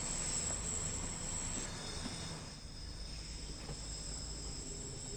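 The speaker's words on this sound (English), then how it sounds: "I can hear another train." A rumbling train passes in the game Train Sim World 2 on Glasgow's Cathcart Circle line, a steady low roar with a high insect-like whine over it, no talk.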